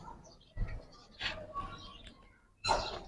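Giribaz and colored pigeons in a loft give soft coos and brief chirps in a few separate bursts, faint and close, with quiet gaps between calls.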